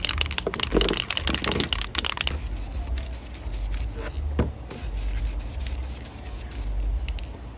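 Bursts of spray from an aerosol paint can onto a PVC RC car body shell, a hissing jet in short repeated pulses, then longer sprays, close by with no talking.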